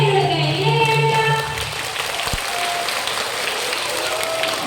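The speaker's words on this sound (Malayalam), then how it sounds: "എന്തായാലും ഇവർക്ക് വലിയ കയ്യടി നമ്മൾ കൊടുക്കണം." Audience applause, a dense burst of clapping that starts loud and eases to a steadier, softer patter, with faint murmuring voices underneath.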